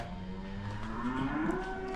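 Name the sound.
cows mooing on a farm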